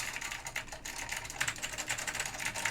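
Rapid keystrokes clatter on a vintage Omni Key computer keyboard, a quick irregular run of crisp clicks, fairly quiet and close, with no talking.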